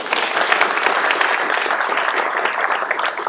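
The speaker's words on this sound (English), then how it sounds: "Let's give another round of applause for the parents." Warm, steady applause from the audience at an Eagle Scout Court of Honor, honoring the parents; dense clapping fills the room, loud and continuous without talk.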